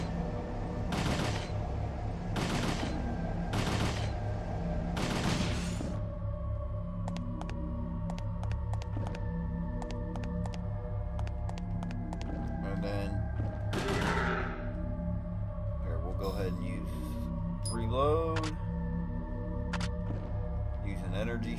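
Gunfire aimed at a computer in the game Parasite Eve 2: a quick volley of about four loud, evenly spaced shots opens, followed by scattered thuds and electronic tones over a steady game hum.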